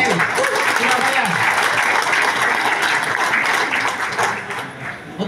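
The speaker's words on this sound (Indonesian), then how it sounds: "tepuk tangan untuk AFC Surabaya" An audience at an AFC Surabaya event in a packed venue breaks into loud, sustained applause, dense clapping filling the space for several seconds and easing slightly toward the end, with voices mixed in.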